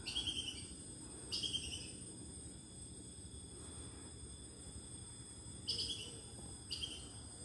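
A squirrel that eats insects calls outdoors in bird-like bursts: four short, high chirping trills spaced a few seconds apart over a faint, steady insect-like hum, fairly distant.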